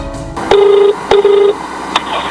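Telephone call being placed to a hospital: two steady ringback tones of about half a second each, separated by sharp clicks, with a further click near the end, clear and close with no talking.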